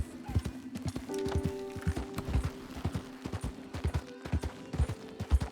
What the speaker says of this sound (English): this horse was a mare? Guess I forgot. The stallion.